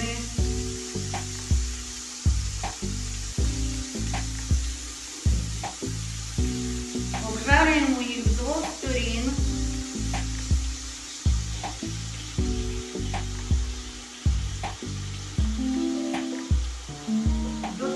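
Banana slices fry in melted butter in a pan, a steady close sizzle with bursts of crackle and a few stirring scrapes throughout, no talk.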